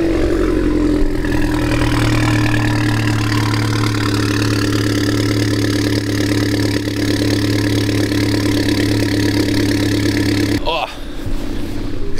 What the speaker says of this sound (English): we're gonna take the GTI out finally again. Of course we're gonna do a cold start, because this car is loud as f.